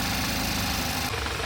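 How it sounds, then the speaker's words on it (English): An Audi S1 salvage car idling with a rattle from the gearbox: a steady, close mechanical drone with a dense ticking texture running throughout. "what you're hearing there, you hear like a rattle from the gearbox"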